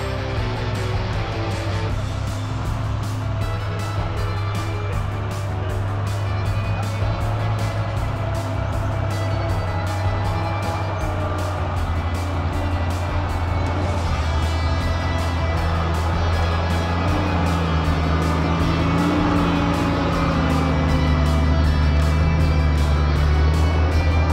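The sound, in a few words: 4x4 off-road vehicle engine revving on a trail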